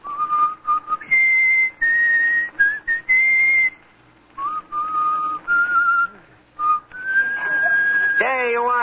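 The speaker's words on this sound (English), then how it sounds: "Let me hear your whistle coming through the rye." A man whistles the tune Coming Through the Rye, a clear, close melodic line in short phrases with brief pauses, ending in a rising slide.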